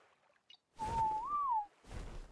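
A single whistle command from ARK: Survival Evolved, a clear tonal whistle that holds steady then rises and falls over about a second, set against a short burst of surrounding game noise with no talking.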